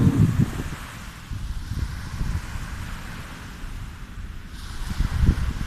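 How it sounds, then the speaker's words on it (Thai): Sea waves and wind at a beach, a continuous broadband wash of surf with gusty low rumbles of wind buffeting the microphone, steady throughout and fairly loud with no talking. "นี่ครับทะเล"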